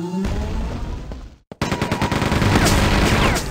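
A turret fires in Quake II RTX: loud, rapid bursts of gunfire crackling close up. A brief pause splits the shooting before a dense, sustained stream of shots resumes.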